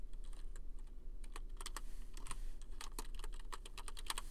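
Computer keyboard typing, a quick irregular run of close, crisp key clicks over a faint steady hum, with no talking.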